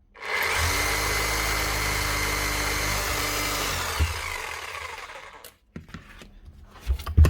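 A customer's repaired power tool runs continuously at steady loudness with a hammering action for about five seconds, then switches off and winds down, followed by a few faint clicks and handling knocks.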